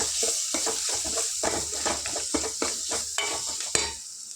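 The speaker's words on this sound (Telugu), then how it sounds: "ఇది ఒక ఫైవ్ మినిట్స్ ఫ్రై చేసుకుందాం ఇందులో ఒక వన్ స్పూన్ పసుపు వేసుకుందాం ఫ్రెండ్స్ దీన్ని చక్కగా ఇలా కలుపుకుందాం" Green chillies fry with turmeric in a pan for tamarind dal, sizzling steadily while a spoon stirs and scrapes in repeated strokes, close and clear.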